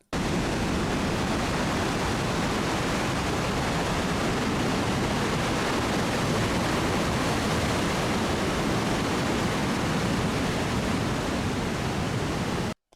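Loud, continuous roar of crashing ocean surf, a dense wash of noise that fills the whole stretch without pause.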